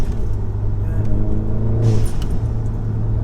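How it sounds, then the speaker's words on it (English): A tuned 360 bhp VW Golf R engine rumbles and revs loudly up close with a deep exhaust tone, swelling briefly midway, with faint talk underneath. "Does this pop? Like when the exhaust is hot or anything like that? It crackles."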